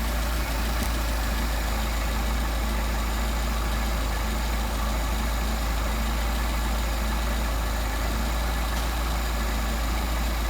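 A Mercedes 190SL engine fitted with Solex 44PHH carburetors idles around 650–700 RPM, a steady low rumbling drone that stays even and continuous, recorded close with no talking.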